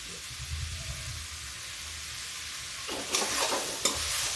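Bottle gourd (lauki) fries in a pan with cardamom powder. A faint, steady hiss and low stirring bumps give way to a brighter, louder sizzle and scraping near the end, with no voices.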